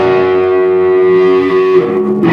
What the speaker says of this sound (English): when you hit it with some gain, the reverb gets bigger too